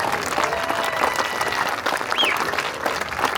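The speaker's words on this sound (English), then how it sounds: "Big round of applause for your 2024 Marching Eagles." A crowd applauds a high school marching band at a performance, sustained clapping at a moderate level with a brief whistle cutting through near the middle.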